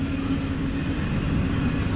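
A CSX intermodal freight train passes close by, a loud continuous rolling rumble of wheels and cars with a steady low roar and no voices.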